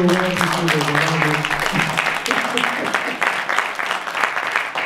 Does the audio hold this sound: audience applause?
yes